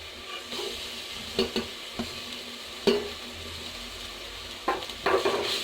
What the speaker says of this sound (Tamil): இஞ்சி பூண்டு பேஸ்ட் சேர்த்து இது நல்லா ஃப்ரை பண்ணிட்டாங்க